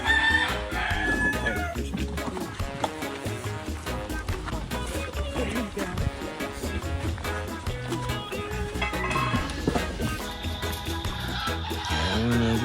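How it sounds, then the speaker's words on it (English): Chickens in a coop cluck busily and a rooster crows, with the flock's chatter dense and close, under background voices and some music. "10 chickens in there."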